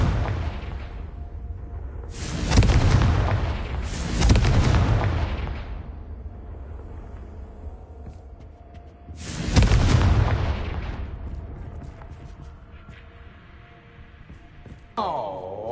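Confringo spell blasts in Hogwarts Legacy, three loud booming explosions, each decaying into a rumble, then a short burst at the end.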